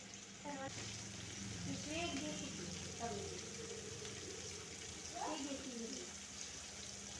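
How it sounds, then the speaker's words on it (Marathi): Onion and grated coconut fry in hot oil for a Kolhapuri dry mutton dish, a steady broadband sizzle running throughout at moderate level with faint voice-like sounds over it. "कांदा आणि खोबरं तेलावर चांगलं परतून घ्यायचं आहे."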